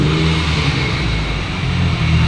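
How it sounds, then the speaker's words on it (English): Mitsubishi Evo car passing close by at an event, with a loud, steady engine roar and exhaust rumble that holds throughout. "oh, there's an Evo coming too."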